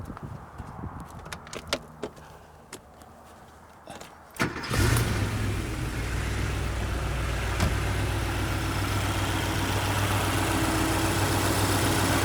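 A Mercedes 6.3 V8 from the 109-chassis SEL cranks briefly and fires up, settling into a steady, loud, low rumbling idle that continues alone to the end, after a few faint clicks and handling noises.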